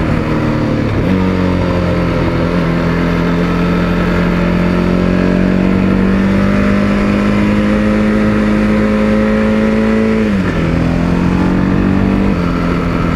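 A KTM 690 Supermoto engine and exhaust while riding, a loud, close, steady single-cylinder drone holding one pitch, with two brief drops in tone as the throttle shifts, continuous with no talking.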